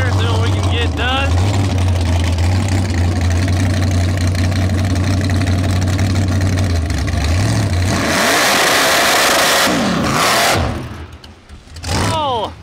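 A top alcohol dragster with a fresh engine idles loudly with a deep, lumpy rumble, then revs into a harsh roar before dropping off near the end, with people talking over it.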